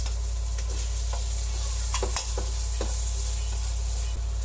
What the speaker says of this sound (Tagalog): Inuna po natin ang luya, gisa po natin hanggang sa lumabas yung kanyang aroma.